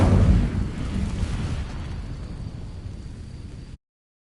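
A fire spell bursts into flame on dry vines in Hogwarts Legacy, a loud explosive whoosh at the start that settles into a steady crackling roar of burning.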